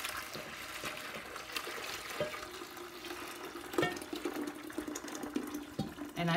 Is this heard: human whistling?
no